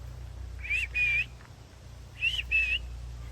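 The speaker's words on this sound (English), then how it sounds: "And all of a sudden, she heard a whistle." Two pairs of clear whistled notes, each a short rising tone followed by a longer level one, sounding alone over a low steady hum in a bedtime story set in the Garden of Eden.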